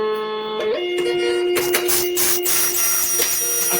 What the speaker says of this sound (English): it's just printing all my labels for me now